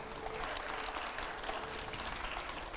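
A studio audience at a televised political interview in Delhi applauds steadily, a dense and even wash of clapping heard from some distance.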